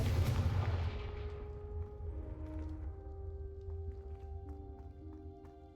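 An explosive Confringo spell from the game Hogwarts Legacy, one loud burst at the start that fades into a long rumbling tail, followed by quieter lingering tones and faint clicks.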